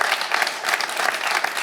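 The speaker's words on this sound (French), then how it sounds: "On peut l'applaudir" A French TV quiz show studio audience claps steadily in a brief, even burst of applause for a contestant.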